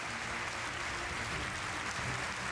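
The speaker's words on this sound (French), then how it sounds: "Big round of applause." A crowd applauds at the European Inventor Award 2018 ceremony, a continuous, fairly faint wash of many hands clapping with no breaks, heard from a distance.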